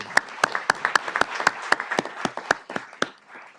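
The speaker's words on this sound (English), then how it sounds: "Let's give them a round of applause." A small scattering of people at a city council session clap for introduced high school students, the individual claps sharp, sparse and clearly separated, fading out near the end.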